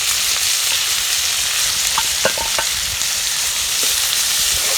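Chopped shallots sizzle and crackle steadily in hot sesame oil with fennel seeds, a close, continuous frying hiss with occasional small pops.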